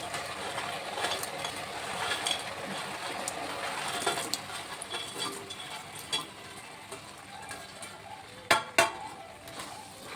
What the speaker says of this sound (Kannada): ಈಗ ಮಿಕ್ಸ್ ಮಾಡಿ ಸಾಸ್ ಜೊತೆ.